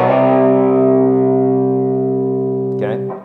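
A distorted electric guitar rings out a sustained, heavily driven chord from a riff. It holds steady and loud for about three seconds before a brief scrape of pick or string noise near the end.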